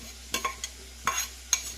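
Soaked toor dal tipped into a frying pan and stirred, giving a few scattered scraping clicks and light sizzles over a quiet, steady background.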